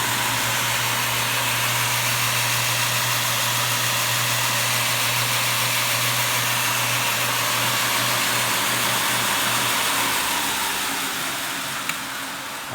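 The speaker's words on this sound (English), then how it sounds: "I can crank it up or control the speed, so crank it up all the way, for fast grinding" A homemade 2x72 belt grinder runs at full speed with a steady, loud motor whine and belt roar that hold constant for most of the time before easing slightly near the end, with no talking.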